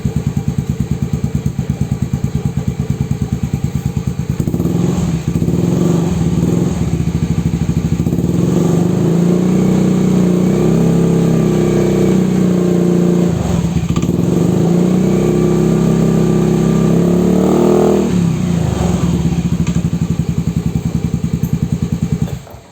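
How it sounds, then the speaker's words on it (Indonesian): A motorcycle with its original stock AHM exhaust is revved in place while parked indoors, its loud, steady idle rumble swelling into several throttle blips and dropping back, with no talking over it. "suara dari knalpot AHM orisinil yang sekarang, yang baru itu seperti ini teman-teman"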